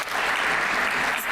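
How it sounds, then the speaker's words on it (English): Steady applause from a conference panel audience, dense continuous clapping filling the room at a loud, even level throughout. "I'm going to give that a round of applause"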